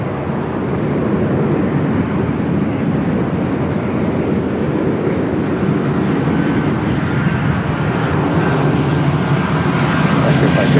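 An airliner on a flight from Seattle arrives at LAX, its engines a broad sustained roar that stays loud and steady throughout.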